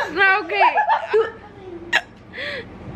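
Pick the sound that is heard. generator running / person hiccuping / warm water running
person hiccuping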